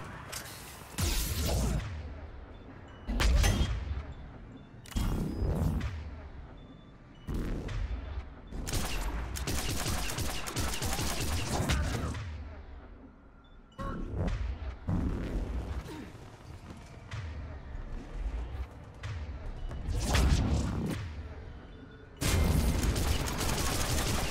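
Gunfire in Mass Effect 3 during the Citadel DLC, coming in loud separate bursts with whooshes and booming impacts, with short quieter gaps between volleys.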